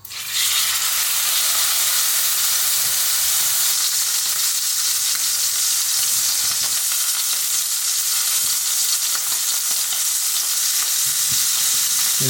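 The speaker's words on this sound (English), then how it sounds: "I'll just cook up the steak" Steak sears in a hot pan with a loud, continuous hissing sizzle that stays even and unbroken throughout, with no talking.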